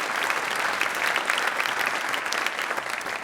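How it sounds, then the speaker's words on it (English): A dense crowd claps continuously at an awards ceremony, loud and even throughout, with no talking over it. "Give yourself a round of applause."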